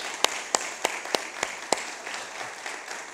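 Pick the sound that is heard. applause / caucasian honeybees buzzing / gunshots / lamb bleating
applause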